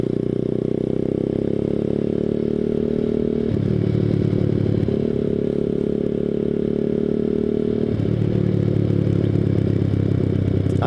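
A small Boom Vader Grom-clone motorcycle is ridden along, its single-cylinder engine droning steadily close up, dipping and rising as it shifts and changes speed, with wind and rattle and no talk.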